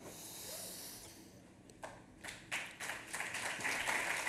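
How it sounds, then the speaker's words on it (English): A conference audience at the Dash Conference breaks into faint, scattered applause that builds into steady clapping over a few seconds. "You don't need to clap at these things."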